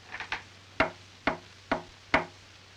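Soft knocks sound in an old 1930s film: a quick faint double tap, then four sharper, evenly spaced raps at moderate distance in a quiet room with low hum.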